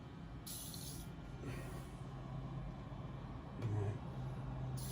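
Short bursts of aerosol spray as penetrating oil is applied to dirty window runners, three or four brief hisses with pauses between them over a low background rumble.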